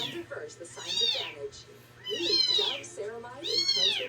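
Orphaned kittens meow repeatedly in rising, plaintive cries while being fed milk, close and loud, with a person talking softly underneath.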